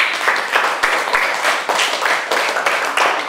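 Classroom of students claps for a classmate's presentation, with lively, fairly loud applause in uneven bursts that swell and dip over a few seconds.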